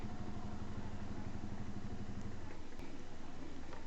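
A motorcycle engine runs steadily with a low throbbing rumble, fairly quiet and continuous, with a faint clatter near the end.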